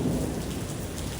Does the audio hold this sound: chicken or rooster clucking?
no